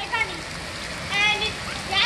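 Steady rain falls outdoors in a soft, even wash of droplets and patter. Brief louder swells come through, and a few faint voices are audible now and then.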